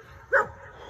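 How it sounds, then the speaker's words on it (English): A single short, sharp bark from a dog nearby, clear and alone against a quiet background. "Again, that dog barking"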